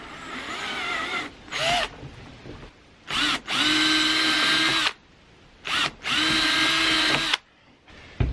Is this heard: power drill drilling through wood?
yes